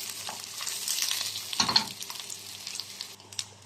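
Egyptian sausage sautéing with onion, garlic and pepper in a pan, a steady gentle sizzle with louder crackling bursts as the pieces are stirred.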